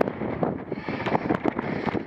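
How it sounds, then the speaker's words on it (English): Gusty wind buffets the microphone outdoors at about 15 degrees Celsius, a rough, uneven rumble that swells and drops in quick pulses throughout the short stretch. "that wind's pushing me"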